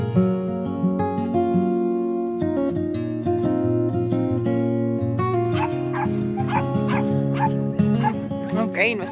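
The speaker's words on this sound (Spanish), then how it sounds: "Aquí vienen los perros a darnos la bienvenida." Several dogs bark and yip in welcome at a ranch in the Sierras Chicas hills, the barks sharp and repeated over steady background sound, with people talking nearby.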